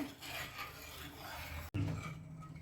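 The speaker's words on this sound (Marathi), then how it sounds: "त्यामुळे आपण हे सतत हलवून घेऊया." Milk being stirred continuously in a pan over low heat, a steady rubbing scrape of a spoon against the pan bottom, close and unbroken apart from one brief cut, with no voices.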